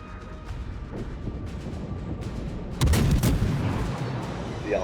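Naval artillery fire from warship guns in World of Warships, a sudden heavy boom bursting in partway through over steady game ambience, followed by a rumbling tail and a further burst near the end.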